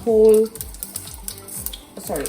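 Cumin seeds and split white urad dal sizzle and crackle in hot oil for upma, a steady close frying hiss broken by scraping stir strokes, with a short louder burst at the start.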